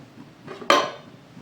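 A lid set onto a pot of beef biryani, one sharp metallic clank that rings briefly and fades over quiet kitchen background.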